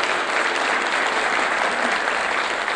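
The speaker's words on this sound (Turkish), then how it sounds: "Sanıyorum biz de alkış hak ediyoruz." Audience clapping for the Silivri Denizaltı Orchestra at its anniversary event, a loud, continuous, evenly dense round of applause with no speech over it.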